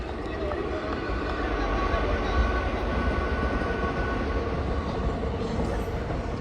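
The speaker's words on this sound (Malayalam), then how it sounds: "ഓലപ്പേരയ്ക്കകത്ത് ഇരിക്കുന്നു, ട്രെയിന് പോകുന്നു." A train passing near a cricket ground, heard from a thatched shelter as a steady, continuous rumbling roar that stays fairly even throughout.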